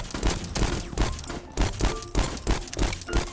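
Heavy, powerful gun blasts from the game VoidTrain, loud booming shots fired in quick succession at a steady rhythm, close and dominant.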